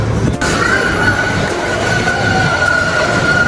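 Train bound for Circular Quay in Sydney rolls along with a steady, loud rumble and a sustained wheel squeal running throughout, no voices present.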